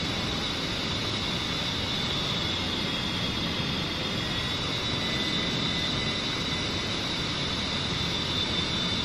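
A jet engine at maximum power during takeoff in a flight simulator game, a steady, loud broadband roar with a high whine that holds constant throughout, with no talking.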